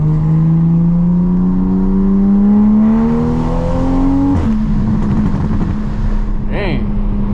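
A car's engine revs high and climbs steadily as its tires spin on cold rubber, then drops abruptly before rising again, loud and close throughout.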